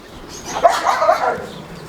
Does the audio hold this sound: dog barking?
yes